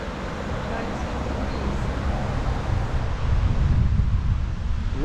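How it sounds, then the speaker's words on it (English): Steady outdoor wind buffets the microphone in Palma de Mallorca, a continuous loud rush that swells slightly toward the end with no pauses. "The wind's picking up"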